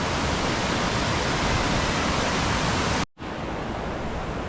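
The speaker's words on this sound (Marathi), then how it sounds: "वरून वाहणारे धबधबे बघा छोटेसे आहेत पण मस्त धबधबे आहेत" Small monsoon waterfalls near a Datta temple in Konkan, a dense, even roar of falling water that fills the clip without change, interrupted by a sudden brief gap before resuming slightly softer.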